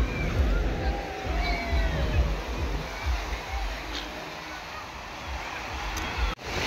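Sea waves wash onto the sand at Calangute beach in Goa, a continuous low rumbling surf mixed with gusting wind on the microphone and faint voices in the background.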